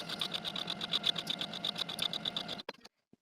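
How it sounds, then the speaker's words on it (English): A sewing machine stitches a 5/8 inch seam on a blouse. It runs as a steady, close, rapid rhythmic whir for about two and a half seconds, then stops with a few short clicks. "Backstitch when you start sewing from the notch and when you get to the end of your blouse."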